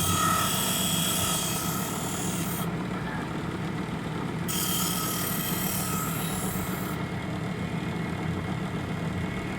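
A cockfighting gaff blade is sharpened with a constant, loud, buzzing grinding rasp that runs unbroken and steady throughout, with no voices.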